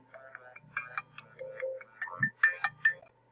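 A phone alarm ringtone plays a bright, chirpy electronic melody of short repeated tones, clear and close, with no talking over it.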